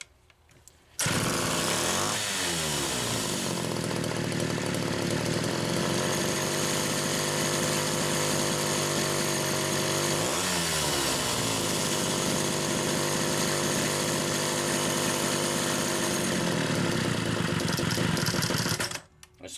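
Homelite Super XL chainsaw restarting after carburetor repair, then idling loudly and steadily up close, with two brief revving surges partway through before cutting off.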